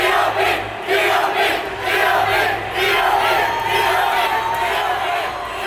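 A crowd of about a hundred supporters at a Hyrox fitness race in Hong Kong chants and shouts together near the podium, a loud continuous roar of voices with rhythmic swells.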